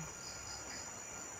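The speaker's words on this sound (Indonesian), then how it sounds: "Suara jangkrik, kumbang," Crickets and beetles chirp steadily at night outside a village, a faint, continuous high-pitched insect drone that runs without a break and with no voices.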